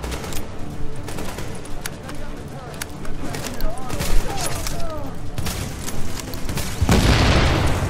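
Gun turrets firing in The Division video game: dense bursts of automatic gunfire and booms in a chaotic firefight, loud and continuous, with a sustained roar near the end and a player's voice talking over the action.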